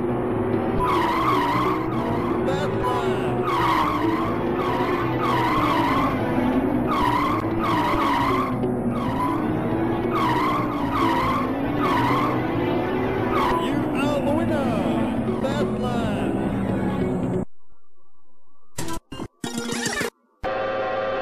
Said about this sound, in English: That releases a skid, and so we can skid around all these corners just like this.